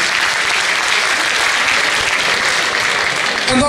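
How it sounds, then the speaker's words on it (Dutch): Loud, sustained applause from a large carnival crowd greeting a new carnival prince, dense clapping filling the space without a break from start to finish. "Nogmaals applaus."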